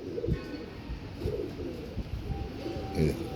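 Tiger breed pigeons give several low, throaty coos at close range, the soft calls rising and falling in uneven pulses over a quiet background.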